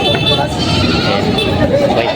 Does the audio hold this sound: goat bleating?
yes